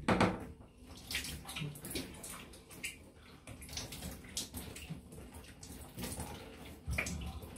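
Cold water runs from a tap at a shaving sink, a continuous splashing gush with uneven bursts and spatters close by, no voices.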